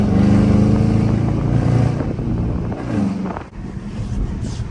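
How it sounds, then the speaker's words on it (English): A Dodge Charger R/T engine revs hard while driving through city streets at 3 a.m. It makes a loud, steady low drone whose pitch rises and falls, with wind rushing over it and no talking. "all you're gonna hear is my engine screaming, my car going crazy"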